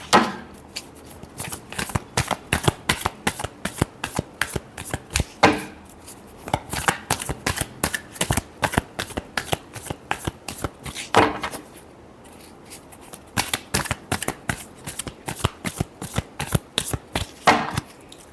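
Tarot cards being shuffled by hand in rapid riffling bursts, each run of quick crisp flaps separated by brief pauses, close and loud with no talking.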